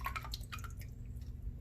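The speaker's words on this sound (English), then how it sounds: "drip a little bit of water on her" Water drips onto a bearded dragon during its bath: a few quick, close, faint splashes come early, then a quiet hiss of water fills the rest.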